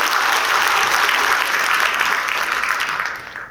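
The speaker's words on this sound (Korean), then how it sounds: "격려를 뜻하는 박수 한 번 더 크게 치시고 시작하도록 하겠습니다" Loud, sustained applause from residents gathered at a redevelopment briefing meeting, a thick wash of many hands clapping for several seconds before tapering off near the end, with no talking over it.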